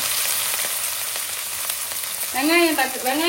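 Onions, fennel seeds and curry leaves frying in hot oil: a steady, loud sizzle throughout, with a few brief squeaky stirring scrapes near the end.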